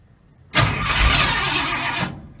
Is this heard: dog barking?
no